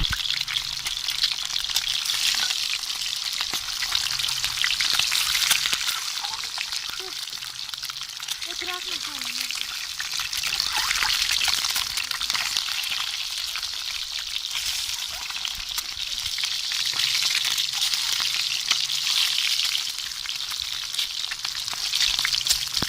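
Potatoes and spinach fry in a hot pan for an egg and potato curry, giving a steady, fairly loud sizzle that holds throughout, with a faint scrape or two and a voice talking now and then.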